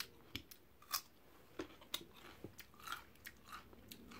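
Raw radish chewed close up, a series of soft crunches and bites at an irregular pace, quiet and with no talk.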